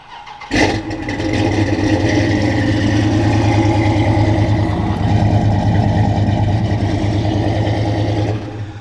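An 1100 hp Dodge Charger Scat Pack engine cranks by remote start and fires up sharply, then settles into a loud, deep, rumbling idle that continues steadily before cutting off.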